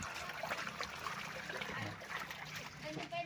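Water from a hot spring on a farm lot in Bay, Laguna trickles and splashes steadily nearby, a continuous watery babble with someone talking over it.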